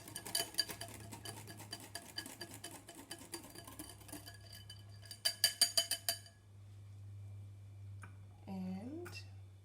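Milk being mixed into Swiss roll batter in a bowl, quick clinking and scraping strokes close by in bursts, a pause, then softer stirring with a brief voice near the end.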